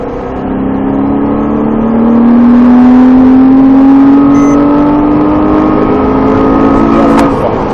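A Porsche Cayman S at full throttle on the Trappes race track, a loud, close engine whose pitch climbs steadily over several seconds, with a brief high whine near the end.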